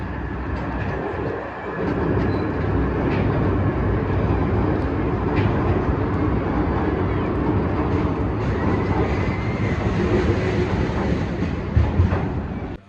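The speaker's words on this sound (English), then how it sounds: "Here's a look at the park's train ride" Small theme park train ride at Wicksteed Park rumbling steadily past for over ten seconds, a continuous loud rolling noise with faint clicks and no talking.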